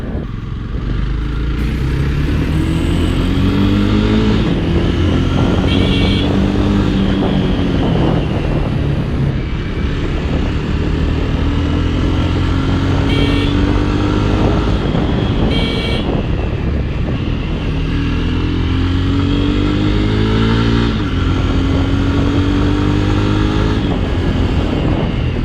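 A Jawa motorcycle accelerates repeatedly on an evening ride, its engine note rising and falling through loud revving sweeps with steady road and wind roar throughout.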